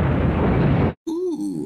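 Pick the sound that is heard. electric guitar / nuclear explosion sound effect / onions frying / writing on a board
nuclear explosion sound effect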